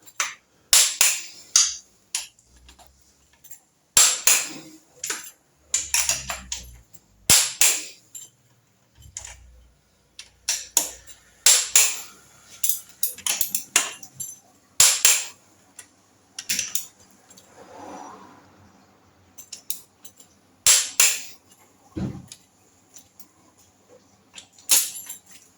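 A torque wrench clicks sharply on the cylinder head bolts of a Triumph Trident T160 in a quiet workshop, with irregular single and paired snaps spread out over half a minute and faint handling noises between them.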